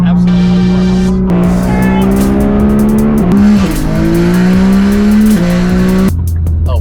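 A 1,300 whp Nissan GT-R with rolling anti-lag accelerates hard, its loud, close engine climbing in pitch through several gear changes with brief dips between shifts.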